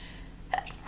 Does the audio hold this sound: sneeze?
yes